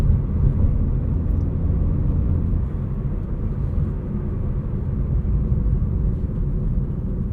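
Steady low road rumble and tire roar inside the cabin of a 2024 BMW M3 CS running Michelin Cup 2R tires with 19-inch front wheels, driven at night, continuous and fairly loud with no talk.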